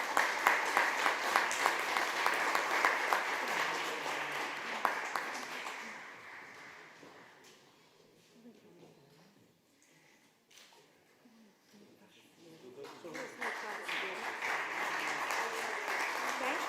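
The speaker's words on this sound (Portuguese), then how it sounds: "Uma salva de palmas." Audience at a law society anniversary ceremony applauding, a sustained wash of clapping that fades down to near quiet midway, then swells back up strongly toward the end.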